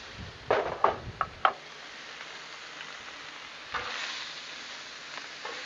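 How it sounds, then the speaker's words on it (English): Cut Italian sausages scraped across a Blackstone griddle with a spatula, several quick metallic scrapes close by over a steady sizzle that keeps hissing softly afterward, with one more scrape near the end. "we're just gonna scrape them back off onto the griddle"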